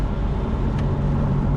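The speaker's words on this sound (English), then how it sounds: "this car gets up to speed really quickly right now" A BMW M4 with a Stage 1 Bootmod3 flash accelerates in a brief, loud, steady engine roar heard from inside the car, with no speech.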